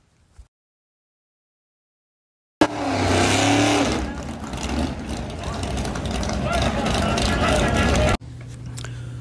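Classic cars launch at a drag race: after a quiet gap, a loud burst of engine roar rises suddenly and holds as the cars accelerate down the strip, with rough, raspy exhaust noise, then it cuts off sharply.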